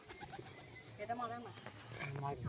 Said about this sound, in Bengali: দুটো নিচে খেলা পায়রা আছে দেখুন কত সুন্দর সবুজ পায়রা